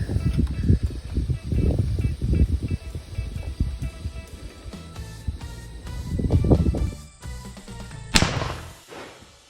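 A Remington 783 rifle chambered in .450 Bushmaster fires a single sharp shot near the end, following several seconds of low thumps and handling noise outdoors.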